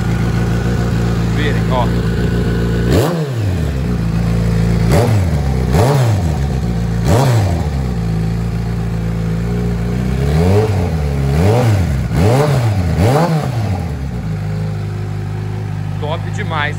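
A 2018 Kawasaki Z900 motorcycle idles loudly up close, then gets blipped with a series of sharp revs, each swelling and falling back to idle, several in quick succession; someone speaks briefly over the engine.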